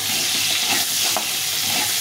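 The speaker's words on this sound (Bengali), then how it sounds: "আলুগুলো আমি একটু ভেজে নিচ্ছি।" Potatoes frying in hot oil in a home kitchen where fish is also being fried, giving a steady, close hiss of sizzling with faint stirring scrapes throughout and no talking.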